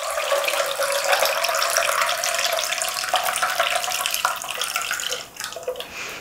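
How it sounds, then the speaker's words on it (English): A steady stream of lye solution is strained into oils for soap making, pouring for several seconds, then tapering off with a few small trickles. "we're going to carefully just strain the lye solution into the oils here"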